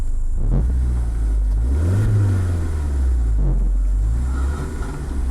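An Audi TT 8N engine revs up and down several times in a deep, rumbling throb, loud and close, with no voices.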